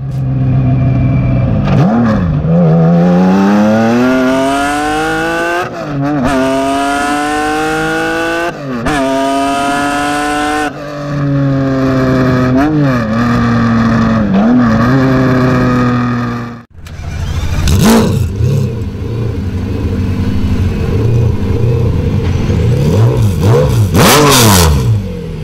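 A Mercedes CLK GTR race car engine screams loudly and close, climbing through repeated rising sweeps broken by quick gear shifts. After a brief dip, rougher, more choppy revving and blips follow, with no talking.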